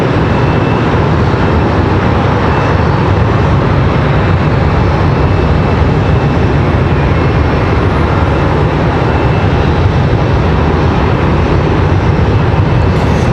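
Airliners pushing back at Charlotte Douglas International Airport, a loud, steady, unbroken roar of jet engines and ground noise that fills the whole stretch without letup.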